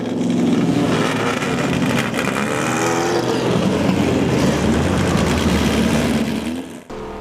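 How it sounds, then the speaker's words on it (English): Vintage sports racing and historic production cars at Mosport pull away onto the track, a loud, continuous blend of engines revving and droning close by, with no talk. "the vintage sports racing and historic production cars head out onto the track"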